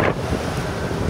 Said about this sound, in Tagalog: Ay, grabe yung hangin. Talagang mahangin sa labas.